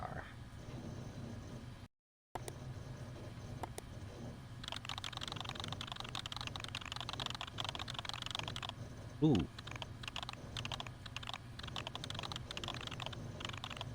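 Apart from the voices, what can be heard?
typing on a computer keyboard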